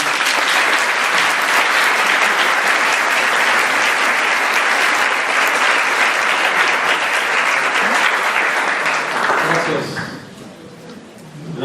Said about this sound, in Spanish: Recibámoslo también con un aplauso.